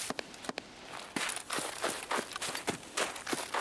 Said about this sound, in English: I just thought I heard two sets of footsteps in there that whole time